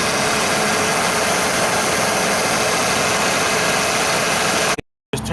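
A Ford Taurus engine idles with its hood open while a broken AC vacuum hose is inspected, a loud, steady, close-up hum that runs unbroken, then cuts off abruptly near the end.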